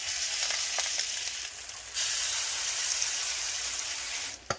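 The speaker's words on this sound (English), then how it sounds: "a cornbread cake that's fried in oil like this" Salmon patties frying in hot oil, a dense continuous sizzle and crackle heard up close, dipping briefly partway through before surging back, with a sharp clatter right at the end.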